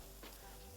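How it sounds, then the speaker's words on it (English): Pork searing in a hot pot, a faint steady sizzle with a brief stirring scrape partway through, no talk. "You want to hear a sizzle right away."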